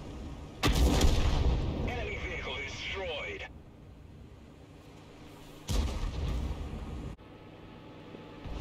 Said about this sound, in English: two Arty shots killed the light tanks